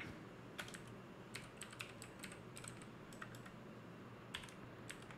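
Steady typing on a computer keyboard while entering Java code, with quick clustered keystroke clicks in irregular bursts over a soft room hiss, close and fairly quiet, no talking.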